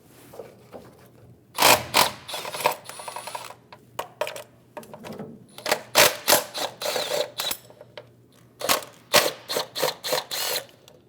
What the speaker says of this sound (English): Using a E10 socket, we're going to remove all of the bolts for the valve cover